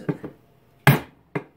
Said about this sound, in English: Instead of beating on this with a hammer, even though it's a lead hammer